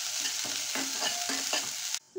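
Coarsely ground peas, rajma and toor dal dry-roast in a pan, giving a steady close hiss with a few light scraping stirs before it cuts off near the end.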